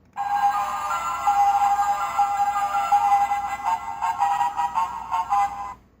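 A Sailor Moon Kaleidomoon Scope toy wand plays a bright electronic chiming melody for about six seconds, loud and close, with no voices.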